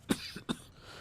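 A man in a Hindi-dubbed action movie gives two short, rough coughs in quick succession, close and clear with no speech around them.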